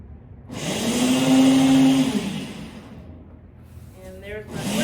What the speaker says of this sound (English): And there's my blender going.